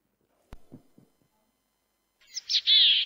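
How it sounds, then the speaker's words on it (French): A willow tit sings a short series of high whistled notes near the end, after a few soft low knocks and a faint thump earlier on. "Voilà le chant de la boréale."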